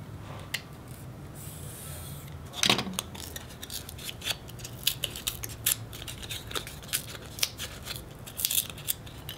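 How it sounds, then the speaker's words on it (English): Scissors cut out a small foam board spacer piece at close range, making steady snipping and crunching strokes with rustling and handling noise between them and no talk. "This is a little spacer. We're going to go and cut this out and fold it up."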